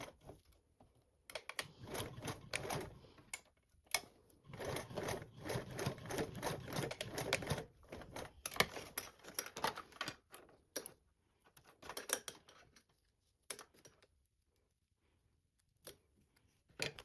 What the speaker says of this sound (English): I'm gonna go ahead and fold to enclose that webbing. And then we're going to stitch along that line.